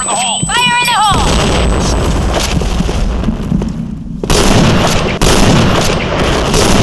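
Loud grenade explosions and bursts of gunfire from the video game Point Blank, dense booms layered over one another with a short chirping game sound at the start and a heavy blast partway through.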